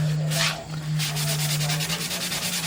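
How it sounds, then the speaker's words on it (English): An orbital sander works on a wooden bowl with a steady low motor hum and a close, gritty rubbing texture that pulses slightly as the pad moves across the surface. "I want to use them with my orbital sander"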